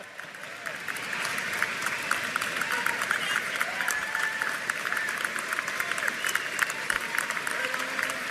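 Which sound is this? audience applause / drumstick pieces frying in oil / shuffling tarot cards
audience applause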